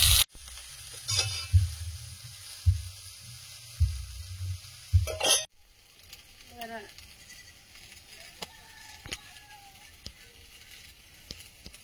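Leafy greens going into a hot pan with cumin seeds and slit green chillies, a sharp sizzle and stirring clatter, followed by quieter frying crackle with a voice talking over it.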